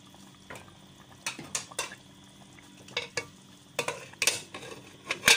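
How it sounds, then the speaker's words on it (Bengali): Potatoes and beef being stirred together in a cooking pot for an Eid-style kosha beef curry: a run of scraping, clattering spoon strokes against the pot with soft sizzling underneath, fairly close and intermittent. "আলুগুলো আমি মাংসের সাথে ভালো মতো মিশিয়ে নিচ্ছি।"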